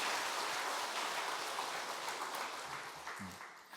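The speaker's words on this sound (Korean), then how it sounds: "다시 한번 박수하겠습니다." A church congregation clapping together, a broad dense patter that fades gradually toward the end, heard at a moderate distance and fairly soft.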